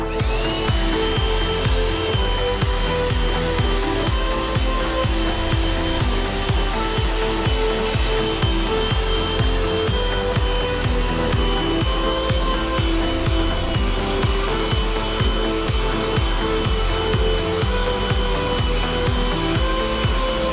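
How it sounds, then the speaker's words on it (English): An electric mixer whisks ice cream batter for blueberry cheesecake ice cream, a steady, loud whirring drone with a fine rhythmic ticking of the beaters, unbroken and close. "And whisk again."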